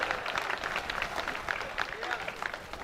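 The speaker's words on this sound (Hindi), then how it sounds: "ताली गलत जगह हो रही है" Audience applause fills a Hindi comedy poetry show (hasya kavi sammelan), a continuous burst of crowd clapping heard from close by with crowd noise.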